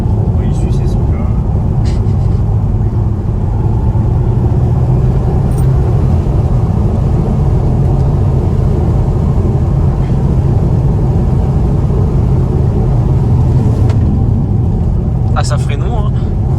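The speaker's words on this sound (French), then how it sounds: "On entend bien le bruit du turbo quand même quand tu accélères, c'est plaisant." Audi TT MK2 with the 2.0 TFSI 200 hp engine pulls hard under acceleration, a steady loud engine drone with turbo whoosh heard from inside the cabin, while occupants talk over it.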